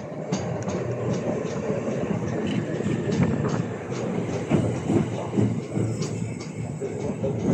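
A Class 375 electric passenger train rolls through Dover Priory station, giving a loud, steady roar of wheels and motors with faint rhythmic clatter that holds for the whole stretch.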